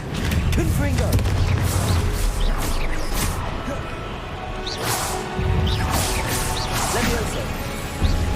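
Fiery blast spell cast in Hogwarts Legacy, heard amid a dense, loud battle din of crashes, whooshes and mechanical clatter, with a voice shouting over the fight.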